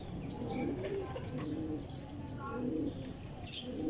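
Soft pigeon cooing and rustling nearby, with brief chirps and a couple of wing flutters over a low background murmur.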